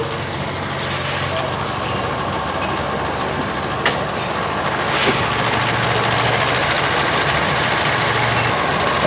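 A petrol 1TR 2000 cc engine in a 2014 Toyota Kijang Innova G idles steadily, heard close up as a constant low rumble with a faint ticking rhythm and no talk.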